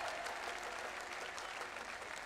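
A crowd at a political rally claps continuously in dense, sustained applause, fairly distant and even throughout.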